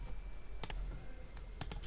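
Quiet keyboard typing of a command in a Linux terminal, with a couple of pairs of light key clicks separated by a short pause against a soft background hum.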